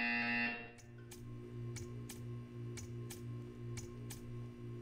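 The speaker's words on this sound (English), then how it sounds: "You will hear a buzzer." A buzzer in the video game Portal 2 pulses in a steady repeating rhythm of short beats, faint and mechanical, with sharp ticks layered over it and no talk.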